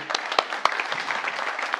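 Brief scattered clapping from a small audience at a talk on social housing, a few sharp claps standing out over a steady patter of hands, with no voices.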